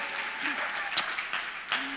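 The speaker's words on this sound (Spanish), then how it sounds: "Un aplauso fuerte, por favor, lo lograron." A church congregation claps at a sermon, a steady wash of applause that runs the whole time with a voice speaking over it.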